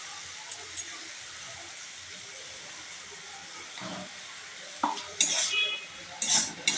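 Chopped beans and tomato stir-fried in a pan, a soft steady hiss with occasional utensil clinks, then louder scraping and clattering of the spoon near the end.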